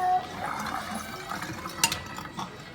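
Water running and gurgling down a kitchen sink drain with soap in the basin, a moderate steady wash of liquid with a few faint clinks of dishes and a brief sharp splash near the end.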